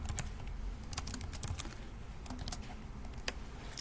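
Rapid, continuous typing of code on a computer keyboard, dense clusters of close key clicks with brief pauses, alone without speech.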